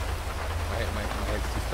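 Rain pours outdoors during major flooding, a dense, even patter with a low rumbling undertone that continues throughout with no break.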